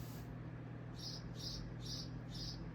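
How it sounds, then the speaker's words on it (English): A small bird chirps outside, four short high chirps repeating at a steady pace over a constant low hum of room noise. "hear that little bird out there?"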